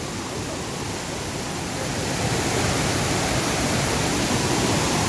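The waterfall at Chinganchira, among big rocks, pours in a steady broadband roar that swells slightly louder partway through, with no voices.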